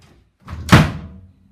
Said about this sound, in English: That was just me slamming the door for effect.